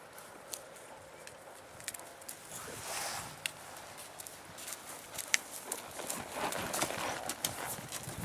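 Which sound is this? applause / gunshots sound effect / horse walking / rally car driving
horse walking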